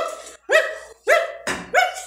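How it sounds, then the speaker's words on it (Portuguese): A sleeping dog barks while dreaming, letting out four muffled woofs in a loose rhythm with short silent gaps between them. "Ele é o cachorro que tá sonhando"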